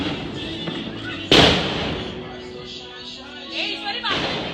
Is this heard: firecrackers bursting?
yes